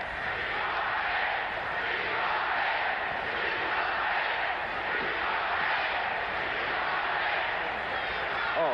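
A record arena crowd of about 19,000 at the 1973 NBA All-Star Game chants for Nate Archibald, a dense, loud, sustained roar of massed voices filling the whole stretch.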